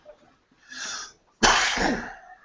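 A single loud sneeze bursts out after a softer sharp inhale, close to the microphone, with nothing else around it.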